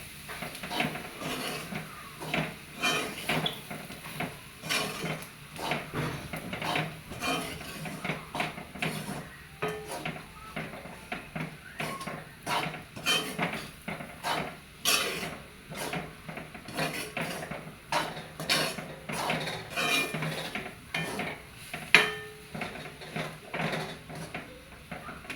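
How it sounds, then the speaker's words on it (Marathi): Torn flatbread being mixed into a stir-fried tempering mixture for phodnichi poli, with repeated scraping and clinking of a spoon against a pan in an uneven rhythm, close and moderately loud, no talking. "याच्यामध्ये आता मी ही पोळी घालते आणि हे मिश्रण सगळं मी एकजीव करून घेते"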